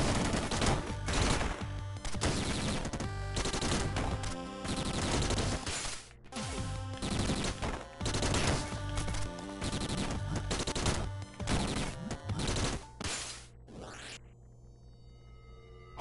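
Rapid gunfire from the Downwell video game, a dense stream of repeated shots with music behind it. It runs loud and near for most of the stretch, then stops abruptly and gives way to a quieter tone.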